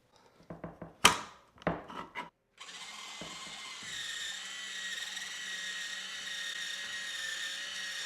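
A Rotato electric peeler spins apples, starting with a few short clicks and clunks before settling into a steady, close motorized whir that runs continuously to the end, with no voices.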